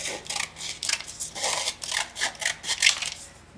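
A paper booklet for a junk journal is trimmed with scissors in a quick run of crisp, close snips, one after another.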